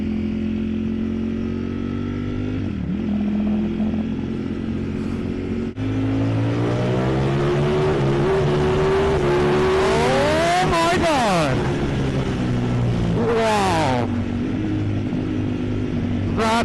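A 2020 Ducati Streetfighter V4 S motorcycle pulling hard, its loud engine climbing through several rising sweeps with gear-change dips. The engine roars close throughout, with the rider speaking over it at times.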